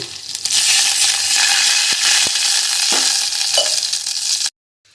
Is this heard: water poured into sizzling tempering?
yes